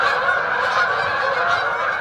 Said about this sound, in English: A nice intermission with the geese there